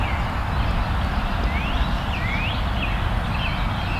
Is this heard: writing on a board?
no